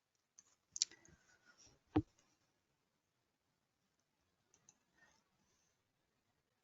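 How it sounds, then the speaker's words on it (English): Computer mouse clicks while working in structural analysis software: a few sharp isolated clicks early on, then quiet with a couple of faint ones later, close and dry. "Then I click here on OK."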